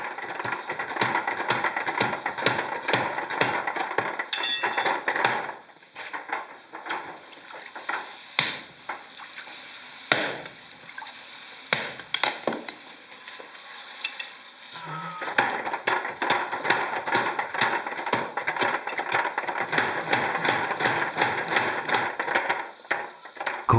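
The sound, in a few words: hammering red-hot tamahagane steel in katana forging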